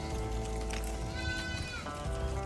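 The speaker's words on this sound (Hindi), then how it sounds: "तो इधर देखने वाला बकरी" Goats bleating at close range among sheep and other livestock on a farm, several wavering cries overlapping one another over steady farmyard background noise, with no talking.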